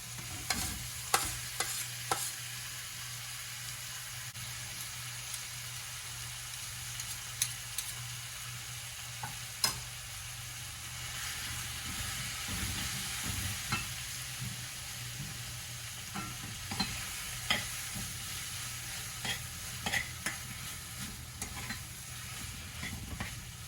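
Corned beef, with a little ginger, fries with a steady sizzle in a pan while being stirred, with scattered scraping clicks of the utensil against the pan, close by and without talk.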